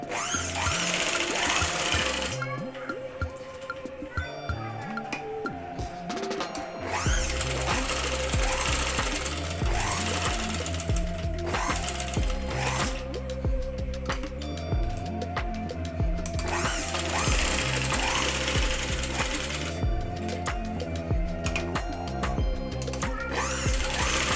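Sewing machine stitching a blouse, a steady rapid mechanical chatter running in long stretches with brief pauses, overlaid by loud background music.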